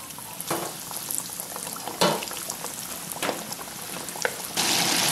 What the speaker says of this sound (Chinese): 油温5层就下锅啊